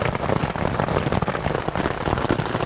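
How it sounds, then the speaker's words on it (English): Hail pelting down steadily in the Sawtooth Wilderness backcountry, a dense, continuous patter of many small impacts with no pauses, loud and close all around. "It's just hailing."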